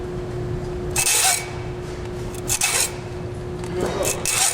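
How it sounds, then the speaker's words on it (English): Fine-tooth hacksaw cutting through flexible hose: four rough rasping strokes spaced irregularly, close and moderately loud, over a steady low hum. "Brandon is cutting his flexible hose with a fine-tooth hacksaw."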